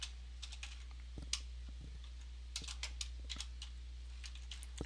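Quick, light keystrokes on a computer keyboard while entering HTML image code, coming in short irregular bursts with brief pauses, near and fairly quiet over a steady low hum.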